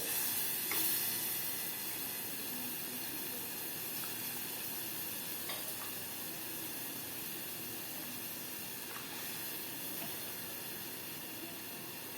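Broth poured into a hot pan of fried ingredients for rice bursts into a loud hiss and steady sizzle, with a few faint clinks and stirring sounds over the constant frying noise.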